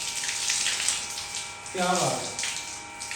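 Water hisses steadily from a hose or sprayer as a motorbike is washed at home, a continuous near spray with a brief shift in tone partway through while a voice speaks over it.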